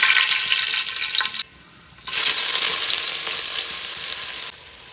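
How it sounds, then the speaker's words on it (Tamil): Onion, crushed garlic, pepper and green chilli hit hot oil for chicken mandi biryani, a loud close sizzle that drops out briefly, surges back strongly, then eases near the end. "எண்ணெய் நல்லா காஞ்சதுக்கப்புறம் வெங்காயம் இடித்த பூண்டு கொஞ்சோண்டு மிளகு பச்சை மிளகாய் இதெல்லாமே சேர்த்துக்கலாம்"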